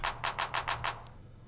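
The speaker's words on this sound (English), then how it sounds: "And then this is my second clap." A clap sample repeats six times in quick, even succession, crisp and dry over a faint low hum, followed by a brief click and quiet.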